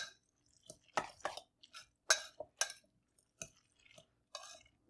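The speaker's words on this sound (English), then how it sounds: "Give that a nice mix." Bruschetta topping with freshly grated cheese is mixed in a bowl, producing sparse, close, wet squelches and soft knocks of a utensil against the bowl, separated by short silences.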